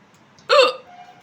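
A single forceful hiccup from a woman, sudden and loud with a brief throaty tone, standing alone in a quiet room.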